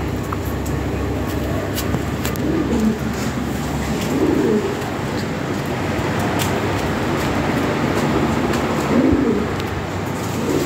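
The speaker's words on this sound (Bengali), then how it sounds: "খুব চমৎকার এক পেয়ার কবুতর" Caged Lahore pigeons cooing, a few low, soft coos rising at intervals over a constant background hum and scattered clicks, with no talking.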